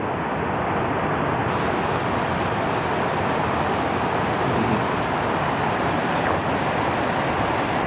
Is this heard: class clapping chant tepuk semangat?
no